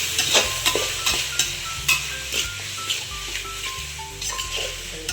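Vegetables with biryani masala frying for pulao, a steady sizzle under repeated stirring clinks and scrapes against the pot, close by, with a faint tonal background hum.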